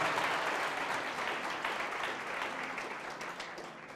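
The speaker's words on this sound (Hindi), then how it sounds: "क्यों ना ताली बजाएं प्रभु के लिए।" Church congregation applauding for the Lord, dense steady clapping from a crowd that slowly fades over a few seconds, with no speech over it.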